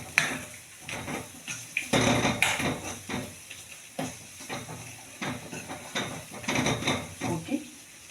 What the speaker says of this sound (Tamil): இது எல்லாத்தையுமே இந்த எண்ணெயில் அப்படியே நல்லா மெதுவாக வறுத்துக்கோங்க